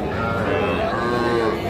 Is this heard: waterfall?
no